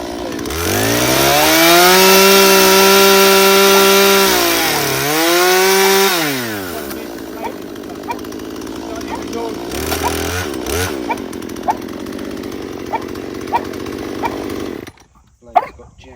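A loud chainsaw engine whines and revs with rising and falling pitch, bogging down as it cuts wood, then idles and sputters before cutting off as the chain jams.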